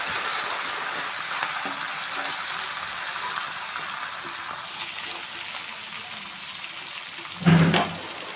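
Chopped tomatoes sautéing in a pan with curry leaves for a salty kandam curry, a steady soft sizzle throughout with a brief louder clatter near the end.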